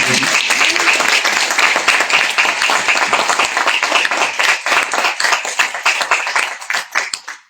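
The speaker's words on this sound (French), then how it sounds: "Donc on peut applaudir." An audience applauds a winning duo at a Francophonie contest prize ceremony, with dense, vigorous clapping that holds steady for several seconds, then thins into scattered claps and stops.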